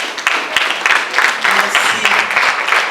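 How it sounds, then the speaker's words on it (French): A studio audience on a televised talk show gives a short round of applause, close, lively clapping with distinct individual claps standing out in a loose rhythm. "Sous vos applaudissements, s'il vous plaît."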